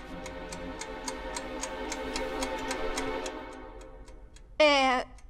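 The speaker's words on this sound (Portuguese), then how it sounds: "Tic-tac! Melhor se apressar, Bats." Clock in a DC Super Hero Girls cartoon ticking in a crisp, even rhythm, about two ticks per second, ending in a short rising ringing chime.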